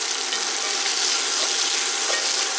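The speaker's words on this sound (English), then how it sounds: "I'm letting the onions and the carrots and the celery saute" Onions, carrots and celery sauteing in a pot for beef bourguignon, a steady close hissing sizzle with faint crackles, no voices.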